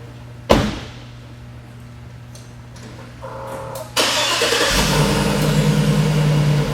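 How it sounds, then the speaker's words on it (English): A Hummer H2 SUV's GM 6-liter V8 engine cranks with a sharp click and starter whir, then catches and settles into a loud, steady idle with a low rumble close by. "Under the hood of this Hummer H2, you're going to find GM's 6-liter V8 engine."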